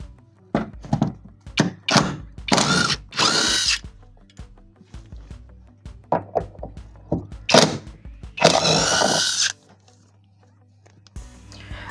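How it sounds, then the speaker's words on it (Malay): A power tool removes nuts from the front seat of a Perodua Bezza car in loud, repeated whirring bursts of varying length, separated by pauses and interspersed with clunks and knocks from handling the tool and parts. "sekarang kita akan buka nut dekat bahagian belakang"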